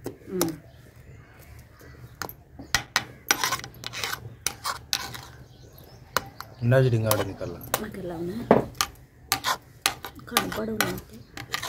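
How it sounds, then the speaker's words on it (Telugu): A spoon stirs sheer kurma in a pot with cloves just added, giving scattered scraping and clinking strokes close by, with someone talking between them. "ఇవన్నీ వేసిన తర్వాత ఇట్లా కలుపుకుందాము."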